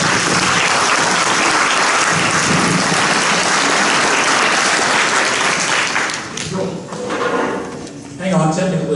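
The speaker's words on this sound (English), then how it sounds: "Let's thank these candidates with a round of applause." Audience applause for candidates at a Harris County political forum, a loud sustained wash of clapping that fades and thins toward the end as voices begin to emerge.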